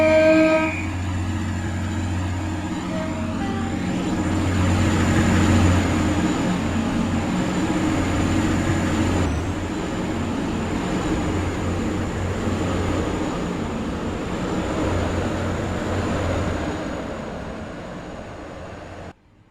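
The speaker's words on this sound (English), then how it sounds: "The train now approaching platform 4 terminates here." A train rolls steadily into platform 4 at Stepford Central station, a continuous low rumble with a brief horn-like tone at the start, gradually easing and stopping near the end.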